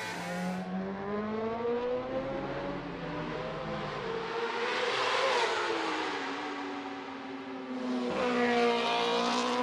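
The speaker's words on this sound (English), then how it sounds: "Just listen to the revs" Macau Grand Prix motorcycle race: rider Michael Rutter's racing bike exits the Melco hairpin with a high-pitched engine screaming through rising revs and gear changes, sweeping closer and louder, with a second surge near the end.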